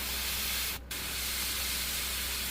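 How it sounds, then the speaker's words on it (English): An airbrush sprays paint in a continuous close hiss, broken by one brief pause before the spray resumes. "when your airbrush kind of stops spraying"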